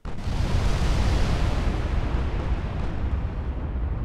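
A heavy, sustained roar of high-explosive fire from quad 20-inch French battleship guns in Ultimate Admiral: Dreadnoughts, with a deep booming rumble that starts abruptly and rolls on loudly without a break.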